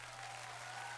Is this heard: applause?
yes